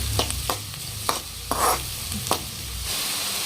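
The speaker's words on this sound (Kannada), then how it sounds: "ಉಳ್ಳಾಗಡ್ಡಿ ಒಂದು ಸ್ವಲ್ಪ ಕೆಂಪು ಆಗೋದ್ರ ಸಲತ್ನಾಗಿ ಫ್ರೈ ಮಾಡ್ಕೊಳ್ಳೋಣ್ರಿ ಎಣ್ಣೆ ಹೈ ಫ್ಲೇಮ್ ಒಳಗೆ ಫ್ರೈ ಮಾಡ್ಕೊಳ್ಳೋಣ್ರಿ" Chopped onion frying in hot oil over a high flame, a continuous sizzle broken by several sharp spatula scrapes and stirs spaced irregularly, close and fairly loud, with no talking.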